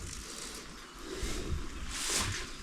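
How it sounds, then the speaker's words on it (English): Steady splashing stream of a sick cow urinating on a farm, a close, continuous hiss of liquid that swells louder toward the end. "You're just recording a cow peeing now."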